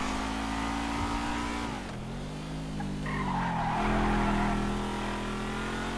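A supercar in GTA V revs hard as its tires skid and squeal, engine pitch dipping then climbing again over a steady loud roar throughout.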